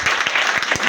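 Church congregation at a prayer and deliverance service applauds in a brief, loud, dense burst of clapping.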